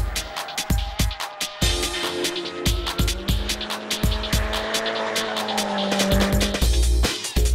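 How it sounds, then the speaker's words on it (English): A car drifting into a corner with the rear sliding out sideways, a drawn-out tire squeal over a revving engine, punctuated by repeated sharp clicks and thumps, loud and close. "the rear of the car becomes unstable and slides out sideways due to the momentum caused by the turn-in"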